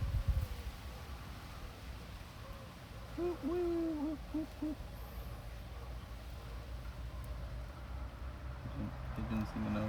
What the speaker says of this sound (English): Pigeons singing over there.